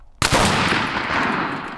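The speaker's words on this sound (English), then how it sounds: "Everyone online breaking that shot pretty much simultaneously." Several rifles fire at once on an outdoor training range during high-angle rifle practice at Thunder Ranch: one sharp, loud crack followed by a long rolling echo that fades slowly.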